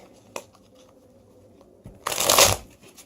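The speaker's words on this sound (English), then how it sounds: "I'm just going to hand shuffle one more time for good measure." A brief card flick, then a quick riffle of playing cards being shuffled by hand, a crisp flurry of rapid ticking that fades out.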